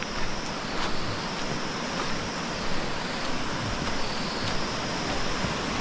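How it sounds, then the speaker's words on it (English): A hidden waterfall in Kalagarh Tiger Reserve, Uttarakhand, pours as a steady, dense broadband rush that stays constant and fairly loud from start to finish, with no one speaking. "It's actually a hidden waterfall around this area."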